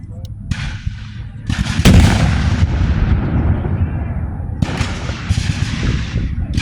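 Three loud cannon blasts boom one after another at a Civil War battle reenactment, each followed by a long rumbling decay, amid a noisy background.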